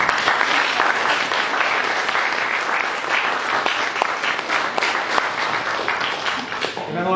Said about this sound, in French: Profitez-en pendant qu'ils sont là, costumés et sages, pour les applaudir.